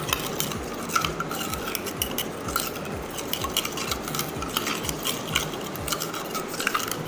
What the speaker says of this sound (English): Now add half teaspoon of turmeric in it